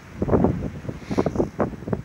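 Strong gusty wind buffets the microphone in low rumbling bursts, loud and close, with no other clear sounds.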